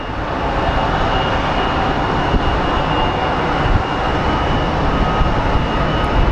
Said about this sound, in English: American 2865 coming in from LAX with an A321-200 series